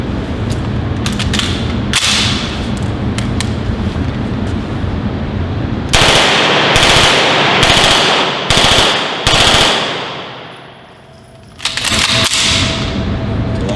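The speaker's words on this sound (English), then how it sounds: "H&K MP5 9mm. Full auto." An H&K MP5 9mm submachine gun fires full auto in several loud bursts of rapid, cracking shots, with short pauses between bursts at a shooting range.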